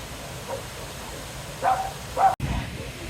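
A dog on a hiking trail in the Brecon Beacons, Wales gives two short yips close by, with faint talk and a hiss of outdoor wind in the background.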